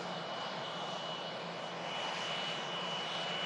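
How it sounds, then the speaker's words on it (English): A Ryanair jet heading for Tenerife departs with a faint, distant, steady engine roar and hiss that slowly builds a little, running alone without voices. "There's the Ryanair for Tenerife."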